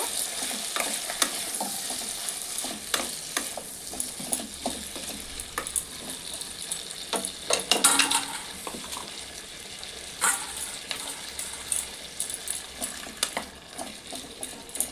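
Mixed winter vegetables with chilli powder and salt are stirred in a frying pan, an ongoing hiss of frying punctuated by irregular clinks and scrapes of the spatula against the metal, close up and with no talking.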